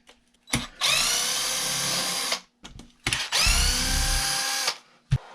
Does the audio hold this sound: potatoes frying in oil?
no